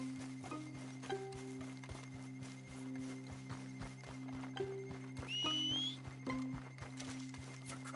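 A horse in Red Dead Redemption 2 whinnies and snorts amid steady clip-clopping hoofbeats and occasional thunks, close and fairly clear over a constant low ambient hum.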